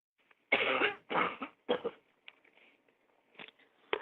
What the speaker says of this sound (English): I'm going to have another good cough